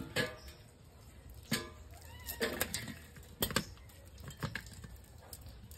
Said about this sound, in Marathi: मांजर पण आली वासाने.